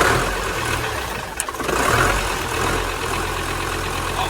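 A massive 1965 engine idles with a loud, steady, rumbling drone that holds evenly throughout, with no voices.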